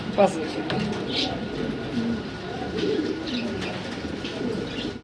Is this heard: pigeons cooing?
yes